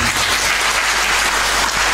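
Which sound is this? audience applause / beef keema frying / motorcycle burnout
audience applause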